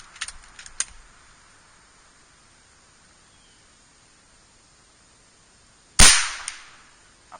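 A single sharp, loud shot from a Kral NP03 .25 caliber air rifle fired at a 65-yard target, standing alone after quiet handling clicks, with a short decaying tail and a faint click afterward.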